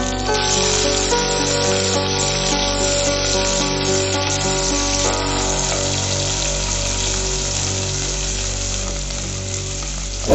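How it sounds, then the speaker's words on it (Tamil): Onions sautéing in hot oil with whole cloves, cardamom and bay leaf for tomato biryani, a steady close sizzle that continues evenly for the whole stretch with no talk over it. "அது வணங்கின பிற்பாடு வெங்காயத்தை சேர்த்து வதக்கிக்கிங்க"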